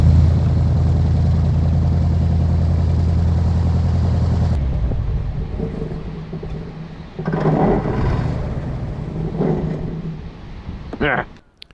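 A large airboat engine runs on a mill pond, its loud steady droning hum close by for several seconds before dropping away, with talk and brief bursts of motor noise after.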